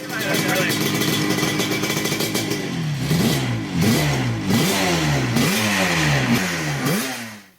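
A Yamaha TZ350 two-stroke racing motorcycle engine warms up at Donington. It holds a rough idle, then blips repeatedly in sharp rising and falling revs about once a second, close and loud, with voices talking in the background.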